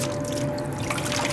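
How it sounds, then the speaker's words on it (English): Water being sucked violently out of a fish tank drainage hose, a brief steady gurgling rush with a constant tonal hum underneath, close and moderately quiet. "produces a suction and sucks the water out of the hose. Pretty violently too."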